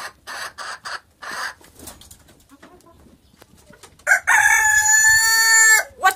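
A small chicken clucks in several short close bursts, goes quiet for a moment, then lets out a long, loud crow that fills the last seconds.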